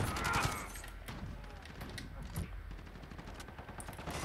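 Rapid automatic fire from a Silverstar AUG rifle in a video game, a dense continuous rattle of shots with little break, loud and close throughout the clip.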